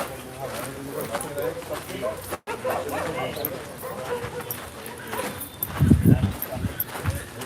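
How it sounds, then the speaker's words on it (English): Dogs bark and whimper outdoors at Abu Sir in Egypt, intermittent yips and barks mixed under constant talking, with a louder cluster of barking near the end. "Sure, those dogs would like it if we ran."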